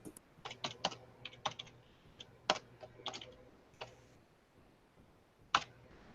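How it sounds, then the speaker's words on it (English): Clattery typing on a noisy computer keyboard, close and fairly loud, with irregular bursts of sharp key clicks and pauses between, alone with no talk. "I forget this keyboard's noisier than the old one."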